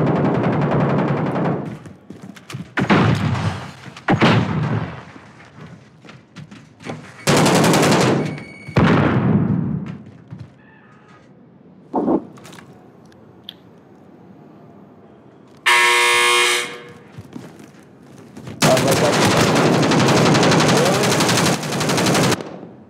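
Gunfire in the video game Warzone comes in separate bursts of rapid automatic shots, loud and close, with short gaps of quiet between volleys and no talking.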